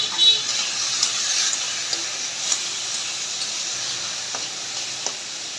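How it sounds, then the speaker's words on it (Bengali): Chopped onions fry in hot oil, giving a steady, bright sizzle that hisses on without a break, with small pops and crackles scattered through it. "তেলটা গরম হয়ে গেছে, এখন দিয়ে দিব পেঁয়াজ। পেঁয়াজ কুচিগুলো আমি একটু ভেজে নিব।"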